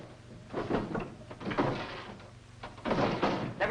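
Wooden drawers in an old bedroom slide and bump as they are pulled open and rummaged through, a series of dull thuds and scrapes in uneven bursts, moderately close.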